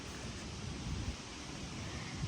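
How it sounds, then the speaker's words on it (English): Strong wind blows outdoors on a blustery day, a continuous low rumble and buffeting noise that swells in uneven gusts throughout, with no voices. "it's also very windy today"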